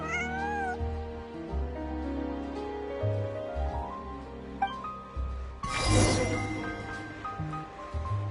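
Bonnie the cat in Genshin Impact meows several times over a steady game music bed, with a brighter burst of sound near the middle; no one speaks.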